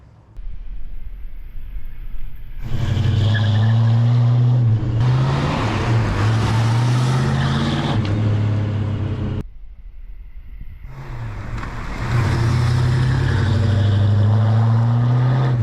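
A 1971 Dodge Charger R/T engine roars loudly in two long bursts with a brief drop between them, deep and rumbling, heard close up.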